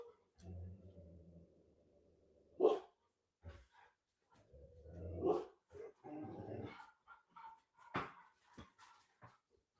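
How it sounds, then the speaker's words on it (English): A dog barks in a home, with a few sharp separate barks and softer whimpers and yips scattered between quieter pauses, fairly close and moderately loud. "I have to see what he's barking."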